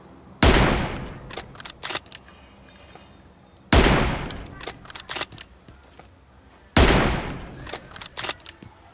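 Three loud sniper shots from an M24 bolt-action rifle in PUBG Mobile, evenly spaced about three seconds apart, each a sharp crack with a short ringing tail and faint clicks between them, with no talk.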